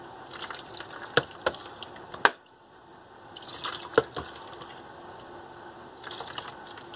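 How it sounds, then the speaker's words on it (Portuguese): Water from a rinse splashes and drips in a few sharp irregular bursts, with hissing spray patches in between and quiet gaps, close by and with no speech. "Agora vamos enxaguar."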